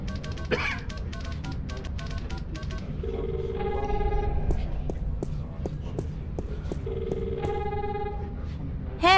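A telephone ringing in The Longest Journey adventure game, repeated electronic ring bursts in two rounds over steady background game ambience.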